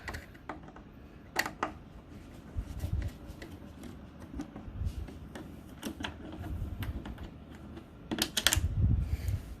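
Torx T15 screws come out of a Tektronix 24XX oscilloscope's metal cover, giving scattered close clicks, scrapes and small metallic taps from the driver over a quiet hum.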